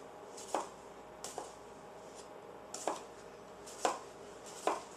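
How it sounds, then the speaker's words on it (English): Knife slicing three small potatoes into quarter-inch rounds on a board for moussaka, a slow irregular series of crisp chops close to the microphone over a quiet kitchen hiss. "I've got 3 small potatoes, and I'm just going to slice these into little, probably about 1/4 inch slices."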